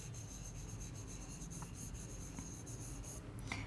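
Writing on a board during a grammar lesson: a continuous, soft scratching and rubbing stroke, close and quiet, with no talking over it.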